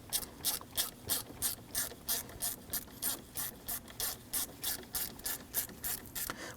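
Ratchet tightening a bolt on the 3.2-litre inline-six engine of a Volvo XC60, a quick, even series of about twenty clicks, close but fairly quiet, with no talking.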